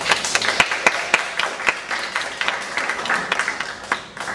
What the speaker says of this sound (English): you guys give him a warm round of applause